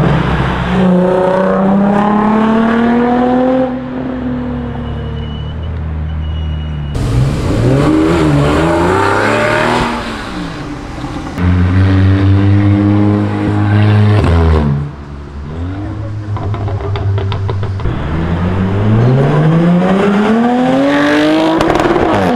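A Jaguar car revs hard on a city avenue, its engine climbing through several loud, rising sweeps with brief gear-change dips, close and powerful throughout.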